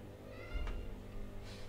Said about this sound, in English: Sorry, I need to let my cat in.